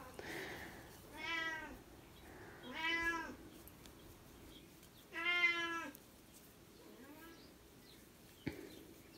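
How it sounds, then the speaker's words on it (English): A cat meows four times, drawn-out, harmonic calls spaced a second or two apart, fairly close with quiet background between them and a brief click near the end. "Meow."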